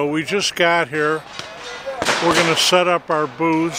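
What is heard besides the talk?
gunshots in the background at cowboy action shoot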